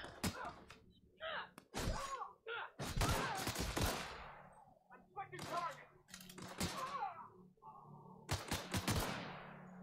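Combat gunfire erupts in The Outer Worlds in loud, rapid bursts of shots and heavy thuds, separated by short pauses. A person talks between and over the volleys.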